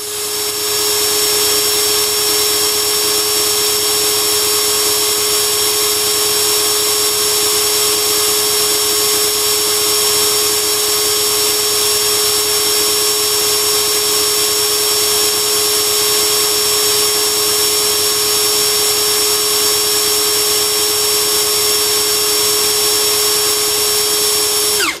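MLHY CID-48B-BL brushless cordless drill running steadily at high speed, a constant loud whine held without a break from start to finish, with no talk.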